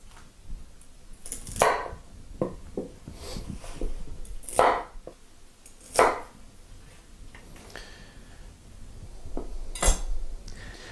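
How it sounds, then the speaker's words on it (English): A knife chopping the tops off beets on a cutting board, with a handful of sharp, separate thuds at irregular intervals, close by and with no talk. "So what I'm going to do is just cut the tops off."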